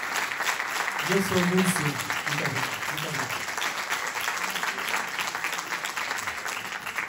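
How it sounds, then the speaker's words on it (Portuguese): Audience applause at the FestFado gala in Mação, a sustained bright patter of many hands while someone briefly speaks over it, fading slightly toward the end. "Muito obrigada a todos pelos vossos aplausos."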